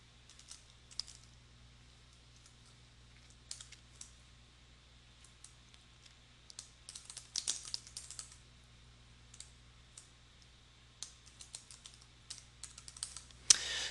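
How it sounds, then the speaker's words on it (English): Fingers type on a computer keyboard in a quiet room, with soft, irregular key clicks coming in scattered bursts that grow busier and louder toward the end. "So I'm going to go in and finish typing the data that I want"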